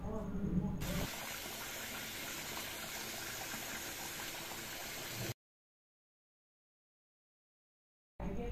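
Soaked pearl millet is washed with water in a vessel, giving close sloshing and pouring sounds for several seconds, then a stretch of silence and a brief return of the watery noise.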